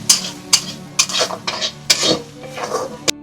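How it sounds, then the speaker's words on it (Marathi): A spiced masala of red chili, turmeric and garam masala fries in oil in a pot in a village kitchen. A spoon scrapes and clinks against the pot in quick, rhythmic strokes, close and fairly loud. "तेलावरती चांगला मसाला फ्राय झाला पाहिजे."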